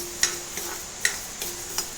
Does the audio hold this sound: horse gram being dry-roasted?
yes